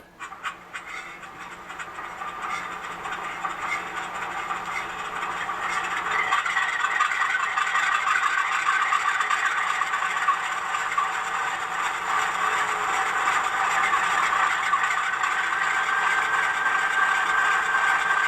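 A Rapido MLW M420 model diesel locomotive fitted with an ESU LokSound decoder starting up on a layout, giving a steady rising engine rumble and rattle that builds over the first seconds, then holds at a constant idle, with no talking.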